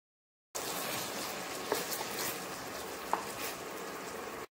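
Chicken lollipops are stirred into tomato and soy sauce in a hot pan, a steady close sizzle with a couple of soft clinks from the stirring.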